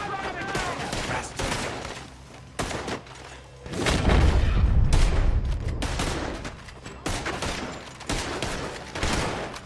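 Gunfire in a Red Dead Redemption 2 shootout, rapid bursts of shots and booming blasts at close range, with game voices talking between the volleys.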